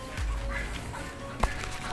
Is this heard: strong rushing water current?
no